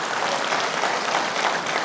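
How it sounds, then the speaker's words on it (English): An audience at a flight simulation expo claps for first-time attendees, a dense, steady burst of applause that fills the whole short stretch. "Let's give them a round of applause."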